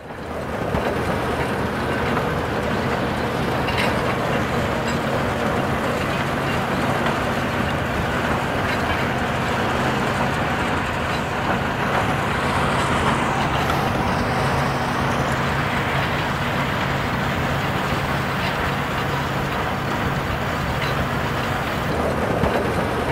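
A sugar beet harvester loads beets into a truck during the harvest. It makes a steady, loud mechanical roar and rumble with a low engine drone that holds unbroken from start to finish, and no one speaks.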